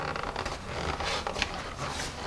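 Plastic packaging on a Linc Pentonic ballpoint pen being torn open, a continuous crinkly ripping and scraping texture lasting a couple of seconds, close and fairly loud, with no talking.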